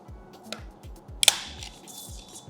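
Battery flap of a Nokia 225 4G phone being opened, a couple of faint clicks followed by one sharp close snap, quiet and brief, with no talk.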